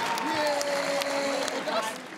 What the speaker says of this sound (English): One more round of applause, please, for both of our heavyweights